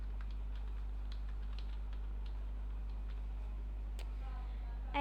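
Soft, irregular keyboard typing while a name is entered, faint ticking keystrokes over a loud constant low hum, close but quiet, no talk.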